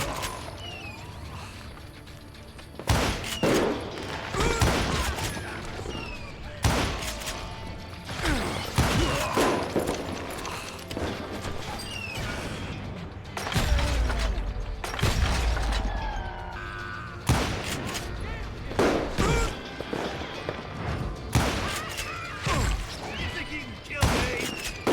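Repeated gunshots in the Western shooter Call of Juarez Gunslinger, loud bursts and volleys going off every few seconds over background game noise.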